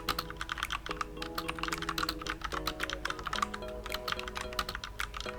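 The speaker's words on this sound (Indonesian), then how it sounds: "Untuk suara dari switch Outemu brown di keyboard ini seperti ini." Rapid typing on a Vortex VX7 mechanical keyboard with Outemu brown switches, a steady stream of crisp, close key clacks with an uneven rhythm and occasional heavier strokes, heard alone.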